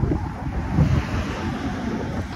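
Strong stormy wind buffets the microphone with heavy low rumbling gusts, a continuous roaring rush like surf, close and loud.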